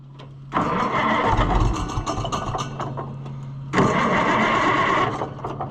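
A 1650 tractor engine cranks and fires, settling into a rough running note with a miss, briefly dipping before revving up again, loud and close with no talking.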